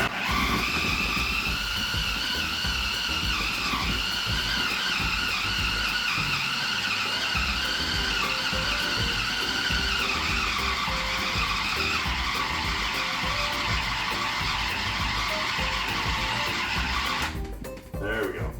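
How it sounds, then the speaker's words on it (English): A food processor spins pizza dough, with the ball riding on the blade. The motor gives a loud, steady whirring roar with a rough, rattling edge, runs continuously, and cuts off at the end. "So I'm going to pop this on here, food process this a little bit more."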